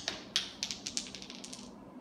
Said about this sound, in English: So I'll do another dice roll on this.